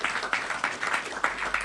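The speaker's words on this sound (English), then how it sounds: "Because another round of applause," Applause from an audience at an ISKCON Srimad Bhagavatam overview talk, a steady wash of many hands clapping with rhythmic pulses, moderately distant and without talk.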